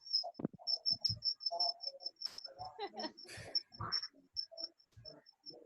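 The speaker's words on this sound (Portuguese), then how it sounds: "Tem um grilo aí." A cricket chirps in steady, rapid pulses throughout, fairly close and clear, under scattered talk and background noises in a room during an online pedagogy class.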